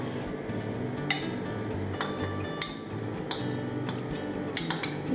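Date-palm jaggery is poured from a bowl into rice kheer, with repeated light metallic clinks and scrapes of a spoon against bowls over a soft kitchen background.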